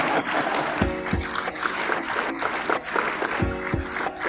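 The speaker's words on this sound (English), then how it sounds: "Please give him a round of applause as he comes forward." An awards show audience at a school district Teacher of the Year event applauds continuously, crowded clapping overlaid by a few deep thuds and brief tonal bursts.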